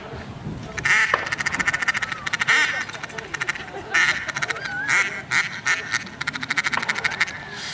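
Rapid, chattering goose feeding calls come in quick repeated bursts, imitated by a caller, over gusty wind noise.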